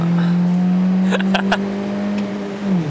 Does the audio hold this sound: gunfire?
no